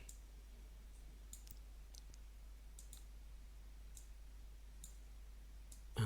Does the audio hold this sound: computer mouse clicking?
yes